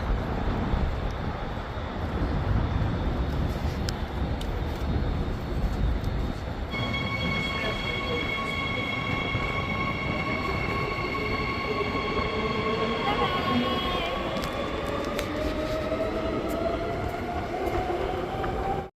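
Inside a moving suburban train in Perth, Australia, a steady rumbling roar of wheels on track fills the carriage, and long high wheel squeals rise and shift over the second half.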